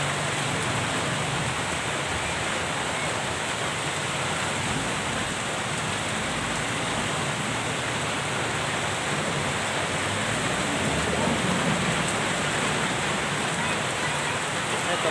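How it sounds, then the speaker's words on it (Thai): Heavy rain pouring steadily, a dense, even hiss of falling water that stays constant and fairly loud throughout with no pauses. "ฝนตกหลายน้ำท่วมนาท่วมทางเมื่อเดือนนี้นะพี่น้องเอ้ย"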